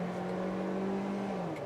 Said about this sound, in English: So you can drag the engine all the way to the red line.